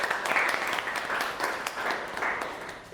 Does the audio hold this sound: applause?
yes